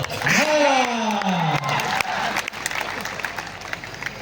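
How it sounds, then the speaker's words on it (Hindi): An audience applauds at a comic poetry gathering, the Mahamurkh Mela in Banaras. A voice rings out over the start, then steady clapping fills the rest. "तालियां बजाइए"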